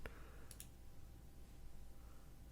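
A computer mouse gives a few faint, quick clicks close by, first a single click and then a fast pair, over a low, steady background hum.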